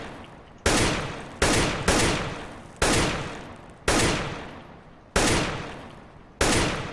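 Loud gunfire from a rifle in the shooter game CS:GO, fired as about seven sharp single shots in short bursts with brief pauses between them, each crack trailing off quickly, with no talking.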